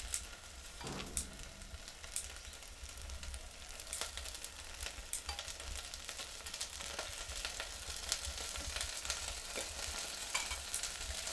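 Oil going into a pan before aubergine and broad beans are fried, a steady close sizzle with occasional sharp crackles and spits throughout, no voices.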